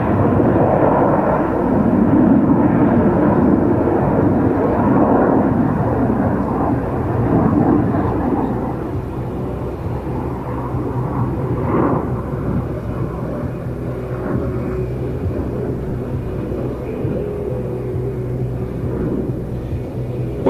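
A Harrier jump jet performs a display at an air show, vectoring its nozzles through a tight Himmelmann turn, heard as a loud, rough jet rumble early on that fades to a lower, distant roar.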